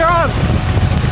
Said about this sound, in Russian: Ураган!